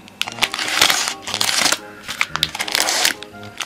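A Dragon Ball sticker wafer wrapper is peeled open with close, loud crinkling and tearing plastic, busy and continuous with short pauses.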